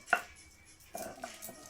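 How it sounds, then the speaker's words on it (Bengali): Nuts are ground coarsely for a cauliflower muitha, giving a few faint, separate knocks and scrapes spread over a short, quiet moment. "বাদামটা আমি আধ বাটা করে বেটে নেব।"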